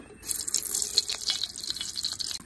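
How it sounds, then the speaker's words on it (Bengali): Cooking oil is poured into a pan for frying eggs, giving a close, bright hissing and crackling stream with small spattering pops, and no voices. "এবার আমি তেলটা দিয়ে দিব।"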